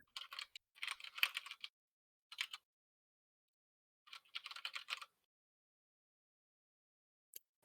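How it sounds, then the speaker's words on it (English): Bursts of computer keyboard typing, quick clustered keystrokes in several short runs separated by silence, fairly faint and close, with no voices. "Did I just hear Groovy typing?"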